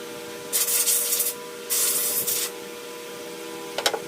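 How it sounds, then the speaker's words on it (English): Compressed air from an air compressor blows graphite and dust out of a Precision Planting finger pickup planter meter in two loud hissing bursts, then brief clattering handling sounds at the end. "take it over to the air compressor and blow out all the excess graphite and dust"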